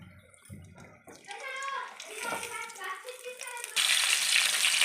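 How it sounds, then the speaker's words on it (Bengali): Bitter gourds drop into hot mustard oil in a home kitchen, setting off a bright, hissing sizzle that swells and turns loud and steady by the end, with a voice speaking over the start. "আমি করলাটা এর মধ্যে দিয়ে দেবো।"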